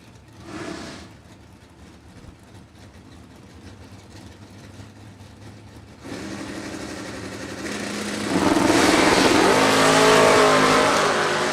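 Door-car drag racing cars, including a 2002 Camaro, accelerate off the line, starting as a low rumble and building to a loud, sustained engine roar in the final seconds.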